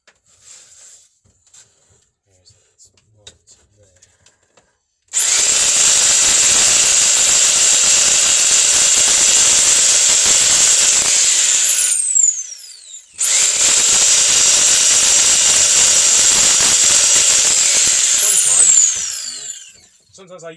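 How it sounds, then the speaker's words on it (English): A power tool whines loudly while trimming second-hand wood for a model railway baseboard, running in two long bursts separated by a brief pause, with quiet knocks and handling before it starts. "Right, I'm just going to trim this a little bit up here."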